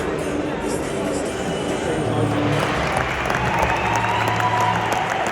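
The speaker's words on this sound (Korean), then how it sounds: "토트넘 선수들 입장하자마자 엄청난 야유." A large football crowd at Old Trafford roars with sustained booing and jeering as Tottenham players walk out. The dense, steady wall of noise holds throughout, with no single voice standing out.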